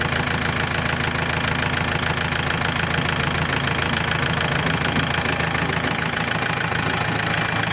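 A Kubota L4708 tractor engine, fitted with a turbo kit, idles steadily with a dense mid-to-low rumble and faint knocking texture, loud and continuous with no talk.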